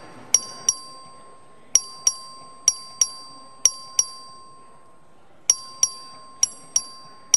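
The voting bell in the Texas House chamber gives clear, bright single dings with ringing tails, near and loud, in irregular pairs and runs of about fourteen strikes over a quiet room, with no talking.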